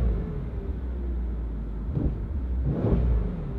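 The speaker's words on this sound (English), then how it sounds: "Thing revs like crazy." A Mercedes-AMG S63 engine idles with a deep, steady rumble, then is revved twice in quick succession, each rev rising briefly and loudly before settling back.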